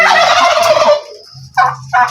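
Two or three loud turkey gobbles, the first a long rattling call, then two shorter bursts after a pause, close by.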